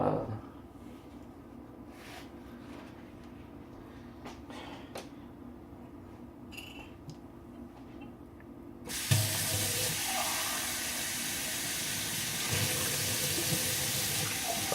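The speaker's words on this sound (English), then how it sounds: "I'm gonna rinse this cup out." Tap water splashes loudly into a sink as a cup is rinsed under the faucet, starting abruptly partway through after a quieter stretch of room noise and small clinks, then running steadily to the end.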